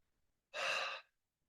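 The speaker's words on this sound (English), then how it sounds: "So take a deep breath." A single deep breath, a soft airy inhale or exhale lasting about half a second, close and quiet against a silent background.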